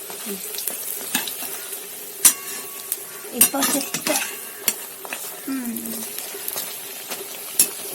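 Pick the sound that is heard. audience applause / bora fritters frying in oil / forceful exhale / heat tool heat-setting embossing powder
bora fritters frying in oil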